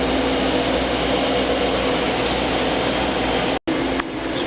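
A machine cutting a clamped part for a homemade Briggs two-cylinder engine gives a loud, steady mechanical whir and hum, broken by a brief dropout near the end before resuming.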